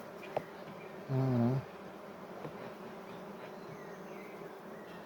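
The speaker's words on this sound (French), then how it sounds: "Là, les abeilles elles mettent du miel." Honey bees buzz at a hive whose frames are filling with honey, a faint steady hum broken by one brief, louder close buzz as a bee passes near, with a short spoken word early on.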